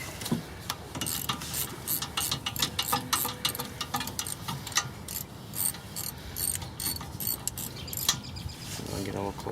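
A socket wrench ratchets rapidly while loosening a bolt on the rear brake caliper of a 2006 VW Jetta TDI, giving a dense run of close metallic clicks throughout.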